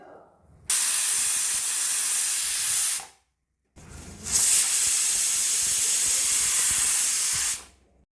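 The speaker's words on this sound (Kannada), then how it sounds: "ಈಗ ಕುಕ್ಕರ್ನ ಕ್ಲೋಸ್ ಮಾಡಿ 3 ವಿಸಲ್ಸನ್ನು ಕೂಗಿಸಿದ್ರೆ ಪಾಲಕ್ ರೈಸ್ ರೆಡಿ." Pressure cooker of palak rice venting steam: two long, loud, steady hissing whistles, each lasting a few seconds, separated by a brief silence, close by.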